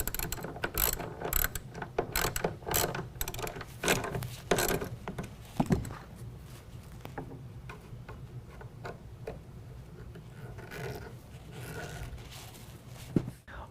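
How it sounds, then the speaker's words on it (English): A ratchet tightening a 13mm nut and a Phillips head screw on the rail of a Roll-N-Lock M-Series retractable tonneau cover on a Chevy/GMC truck bed, rapid clicking bursts repeating close by, then quieter intermittent ticks. "You will reinstall the 13mm nut, tighten that down, and then we can go ahead and tighten down the Phillips head screw."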